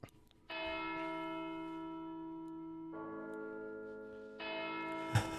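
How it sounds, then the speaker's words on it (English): Bells toll in a tabletop role-playing sound effect, two long ringing strikes sustained and layered, clear and resonant against a quiet background, with a brief knock near the end. "You hear what sounds like bells tolling."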